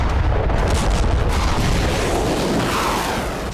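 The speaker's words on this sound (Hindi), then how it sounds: "आर्टिलरी के साथ हमले की प्रैक्टिस हो रही है।" Loud, continuous low rumbling and booming of artillery fire during Iranian military exercises, with no voices.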